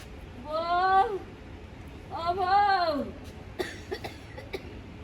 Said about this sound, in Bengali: ভলিউমের সাথে কাশি দিয়ে দিও লাস্টে